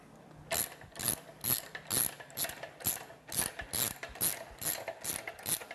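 A hand ratchet loosens the bolts on a car wash top brush take-up assembly, giving a steady run of about a dozen sharp, close clicking strokes in even rhythm with no talk.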